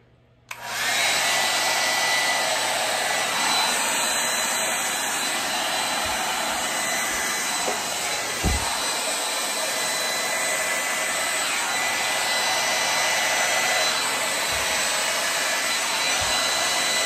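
A steady, loud rush of blown air, like a hair dryer, runs nearly nonstop over an acrylic paint pour on a reused canvas, starting abruptly after a brief quiet moment and holding constant with only small dips.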